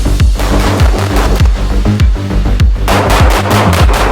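Rapid strings of Glock 17 pistol shots during defensive shooting drills, loud, close and sharp, with a brief pause before another burst of fire.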